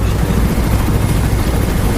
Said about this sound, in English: Oh, the chopper.